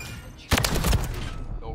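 Gunfire in Call of Duty MW3 during sniper play: a sudden loud burst of rapid shots cracks in after half a second, then a dense rattling volley continues to the end.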